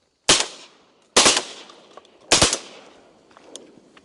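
Three loud, close shotgun blasts fired at green-winged teal during a public-land duck hunt in Nebraska, each a sharp crack with a fading tail, spaced about a second apart, followed by quieter background noise.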